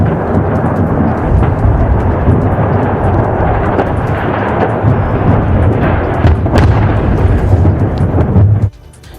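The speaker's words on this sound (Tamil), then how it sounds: "ராக்கெட் என்ஜினில் ஏற்பட்ட பழுதால் அது வெடித்து சிதறியது" A loud, sustained roaring rumble with crackling texture from a rocket blowing up after an engine fault, cutting off abruptly near the end.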